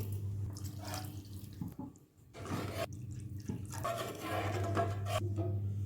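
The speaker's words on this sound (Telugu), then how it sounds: "గ్రేవీ కోసం అయితే వాటర్ ఇలా వేసుకోవాలి" Water is poured into a pan of ivy gourd masala curry to make gravy: a close, continuous splashing gush with brief pauses and a faint low hum underneath.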